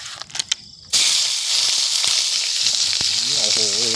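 Stir-fried morning glory hits a hot pan and bursts into a loud, steady sizzle after a few soft clicks, hissing continuously close up with faint clatter underneath.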